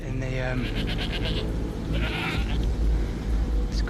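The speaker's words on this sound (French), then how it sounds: "Il y a une chèvre juste là. Je crois qu'elle a la tête coincée." A goat with its head stuck in branches bleats in a few wavering calls early on, fairly close, over steady outdoor background noise.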